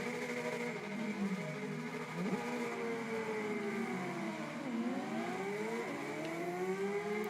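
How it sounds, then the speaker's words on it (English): A Yamaha R7 motorcycle engine in the racing game Ride 5 whines continuously at moderate volume, its pitch climbing and dropping repeatedly as it shifts through gears, with no talking. "This motorcycle already sounds nicer."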